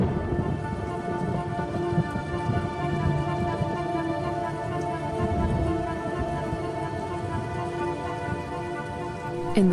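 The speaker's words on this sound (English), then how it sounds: "the rains continue to fall in a ceaseless torrent" Heavy rain pours steadily in a ceaseless torrent across an open landscape, a dense, unbroken hiss of drops close by with faint rumbles underneath and no voices.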